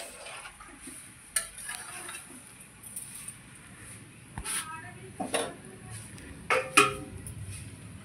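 Meat being stirred in a cooking pot, with scattered scraping knocks of a spoon against the pot at irregular moments over a quiet hiss, close by.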